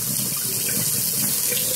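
Water running steadily from a tap hose under a sink, a continuous close splashing hiss with no talk.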